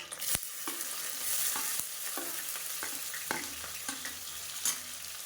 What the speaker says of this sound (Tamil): இப்போ இதில் பொடியாக நறுக்கின வெங்காயம் சேர்த்துக்கலாம்